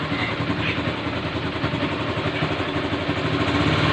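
A motorcycle engine runs steadily at close range, a continuous loud mechanical drone with rattling clatter throughout, no talk over it.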